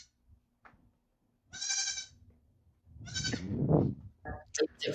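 Bottle-raised baby goats let out several loud, close bleats in short bursts separated by quiet gaps, the later cries overlapping into a wavering chorus.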